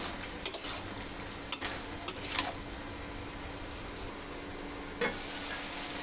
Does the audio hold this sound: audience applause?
no